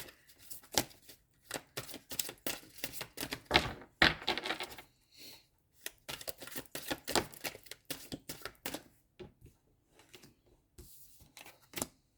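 Crisp, rapid riffling and flicking of tarot cards being shuffled, a few bursts of shuffling and soft slaps, close up with no talking.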